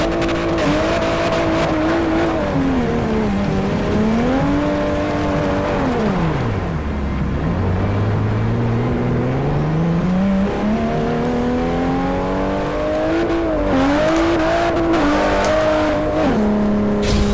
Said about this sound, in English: this is one of my good drift cars too